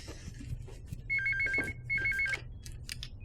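An office telephone rings in two short, bright bursts with a pause between them, fairly quiet against a low background hum.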